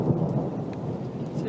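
Deep thunder rumbles low and heavy through a hailstorm, a continuous rolling roar close by with the patter of falling hail and rain mixed in.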